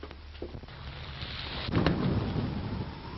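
Thunder from an approaching storm rolls in a low, rumbling swell that peaks into a deeper boom midway, heard at a moderate distance with a faint rain-like hiss underneath.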